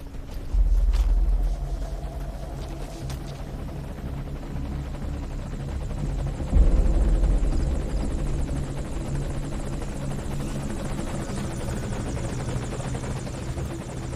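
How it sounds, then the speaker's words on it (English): An enemy helicopter approaches in Metal Gear Solid 5: The Phantom Pain, a steady rotor drone with low rumbling thumps that swells twice, loud and continuous throughout, with no talk. "sounds like there may be a helicopter incoming"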